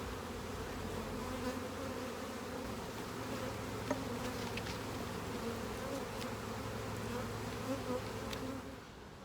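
Queenless honeybees swarm around an opened hive, a steady, dense buzzing drone that holds near and even throughout with a low hum beneath, fading slightly at the very end.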